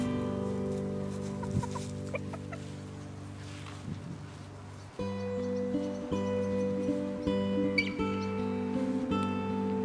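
Well-fed Zielononóżka hens cluck and squawk nearby in a henhouse, a busy overlapping stream of short calls and longer cackles, fairly loud and continuous, with no speech over them.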